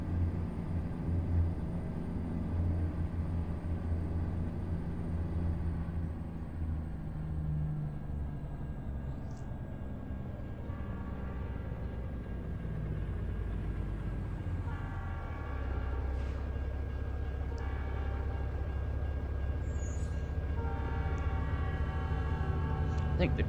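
Train in American Truck Simulator passing nearby with a low rumble of rolling wagons and repeated horn blasts in the latter half, heard from a truck cab while a person talks.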